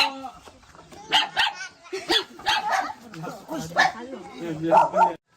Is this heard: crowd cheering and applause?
no